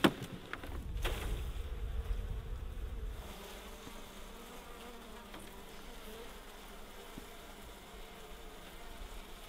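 Honey bees swarm and buzz around an open hive during a queen release in Alaska in spring, a steady close hum that is loud at first, then settles into a continuous lower drone.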